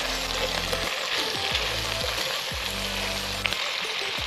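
Jamaican style curry shrimp with carrots sizzles steadily in a hot pan while being stirred, a continuous close frying hiss with occasional scraping strokes, no voices.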